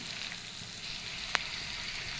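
Cane shoots frying gently in a little oil, a soft continuous sizzle with one brief sharp crackle, heard close and without talk.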